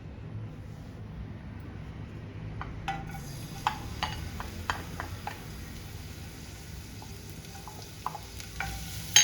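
Chopped garlic and green chillies sautéed in hot oil, a steady sizzle with clear, irregular clicks and taps of a spatula stirring the pan.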